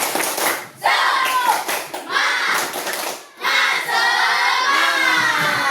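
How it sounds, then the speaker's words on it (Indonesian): Children in a classroom perform a rhythmic clapping cheer, bursts of claps and shouted chant in short phrases separated by brief pauses, loud and close. "Tepuk semangat."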